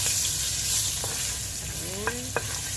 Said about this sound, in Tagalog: we use this oil to cook the garlic